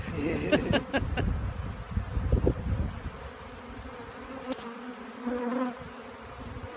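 Honeybees from a strong hive that has been opened hum and buzz close by, with a dense drone and louder swells of wingbeats, briefly disturbed and agitated.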